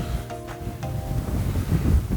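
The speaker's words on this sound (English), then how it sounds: "it's going to get a bit windy" Wind gusts buffet the microphone in a low, uneven rumble, with a few brief faint tonal squeaks near the start.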